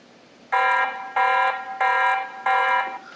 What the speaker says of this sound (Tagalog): So it will alert a sound, a siren sound